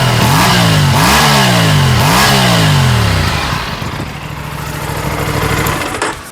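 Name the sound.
Aprilia RS 457 motorcycle engine idling and revving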